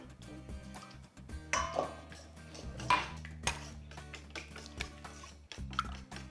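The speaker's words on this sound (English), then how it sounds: "You can start whisking it gently, gently, just so that they're incorporated with the yolks." Eggs whisked gently in a bowl, making light clinking and tapping of the whisk against the bowl in an uneven rhythm, with a few sharper clanks.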